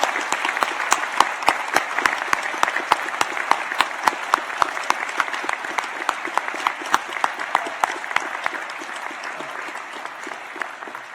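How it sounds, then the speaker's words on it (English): A large audience claps for graduates at a University of Newcastle graduation ceremony in Australia, a dense, sustained round of applause with sharp individual claps standing out, steady throughout and gently tapering near the end. "So could you please join me in applauding the wonderful achievements of our graduates."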